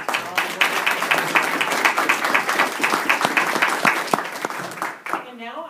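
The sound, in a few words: audience applause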